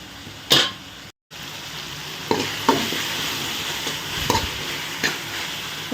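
Tomatoes cooking with salt in a pan for a drumstick curry, stirred with a spoon, giving a loud opening scrape, then a steady sizzle with periodic clinks and scrapes.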